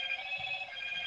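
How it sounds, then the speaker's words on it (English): A telephone rings on a radio talk show set, a steady electronic ring held throughout at moderate level, alone with no talk over it. "The phone was ringing."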